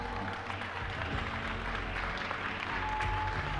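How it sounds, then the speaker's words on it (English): A large crowd at a Borderlands 3 gameplay reveal breaks into sustained cheering and applause, a dense, steady roar that holds loud throughout with no clear voices standing out. "You're about to hear some serious cheers in that crowd now."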